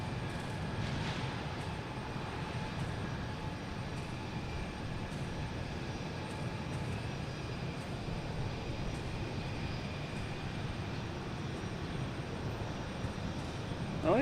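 Virgin Atlantic airliner on the ground at Boston Logan Airport, heard from Terminal B as a steady, distant engine roar with a low rumble throughout, no voices.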